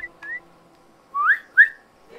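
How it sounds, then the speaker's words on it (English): A character's whistle in the video game Assassin's Creed Freedom Cry, three or four short clear rising whistle notes, close and fairly loud, with no talk over them. "Ooh, the whistles are different. That was like Adewale's whistle."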